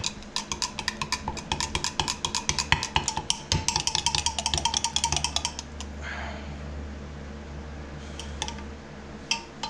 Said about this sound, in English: gonna go ahead and get this black stirred in here